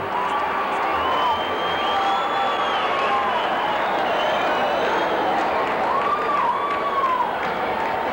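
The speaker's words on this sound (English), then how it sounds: "the Cub crowd really yells when they hear Sutter's name" A Chicago Cubs baseball crowd at a 1979 game against the Phillies yells and cheers loudly and steadily for Bruce Sutter in the ninth inning, a dense roar of many voices with whoops rising above it.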